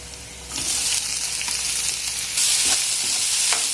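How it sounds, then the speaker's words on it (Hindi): Onions sizzling in a hot pan, a loud continuous frying hiss with scraping stirs and light clinks of the utensil, close up and without voices. "अब हम इसमें प्याज डालेंगे।"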